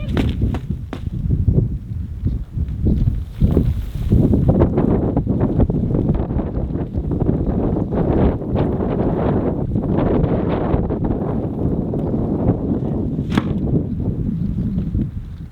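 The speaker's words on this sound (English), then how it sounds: "It's just kind of crazy wind gusts." Strong wind roars and buffets the microphone continuously, with rumbling gusts and faint rustling throughout, no voices.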